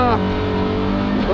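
A Volvo 240 driven flat out in a race, its engine roaring loud and close with a steady high-revving drone that swells slightly at the end, under excited shouting from people inside.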